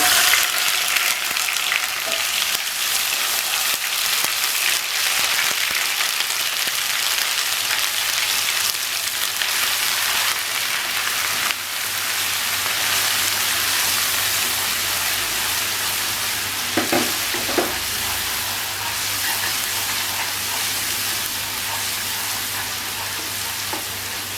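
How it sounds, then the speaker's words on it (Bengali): Ground spice paste sizzles steadily in hot oil in a pan for a fish stew with bitter gourd, a broad continuous crackle with occasional scraping stirs, close and fairly loud throughout. "প্রথমে বাটা মশলাগুলো দিয়ে আমি খুব ভালো করে কষিয়ে নেব"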